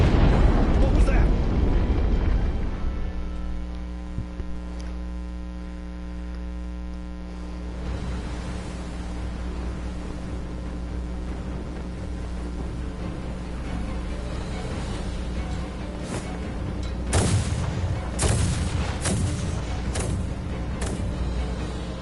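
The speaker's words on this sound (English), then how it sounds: "Their unceasing bombardment is laying waste to our forces." Naval artillery bombardment in the video game Star Ocean The Divine Force: a heavy low blast and rumble at the start, then a sustained droning hum, with later sharp impacts and crackling bursts layered on top.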